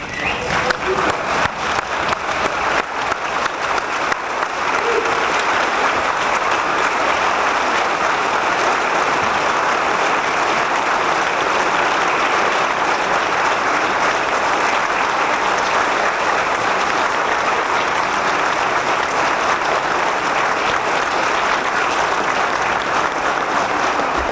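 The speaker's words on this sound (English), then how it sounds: "Would y'all please stand and give him a round of applause?" Sustained applause from a standing audience fills a fire academy commencement and badge pinning ceremony, a dense, loud, even clapping that continues unbroken for over twenty seconds.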